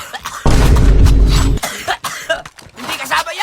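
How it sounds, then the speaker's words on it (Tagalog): A single loud, rough cough bursts out close up, followed by a few breathy throat sounds and muffled noises. "Tarantadong ubo kasi ito eh."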